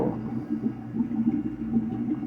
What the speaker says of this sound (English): You guys can probably hear the solution going in the drain.